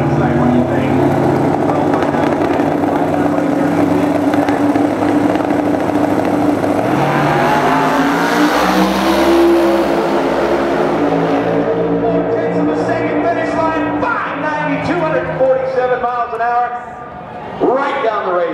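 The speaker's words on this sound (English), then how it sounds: "Watch the 70 Camaro, right side." A 1970 Camaro and a 526 cubic inch Ford drag race, engines howling as they accelerate with rising, shifting pitch and fading into the distance. An excited commentator talks loudly over the run throughout.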